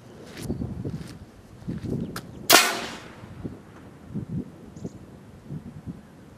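A homemade air cannon fires a video camera shell with a single sharp, loud blast at mid-clip, set outdoors among soft footsteps and handling noises before and after.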